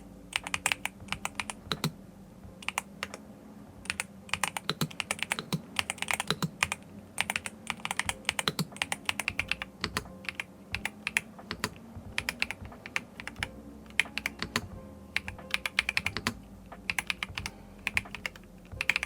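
Typing on a mechanical keyboard, a Yunzii B75 Pro or RK R98 Pro with padded layers for softer keystrokes: a steady run of close, muffled key clacks in uneven bursts, with no talking.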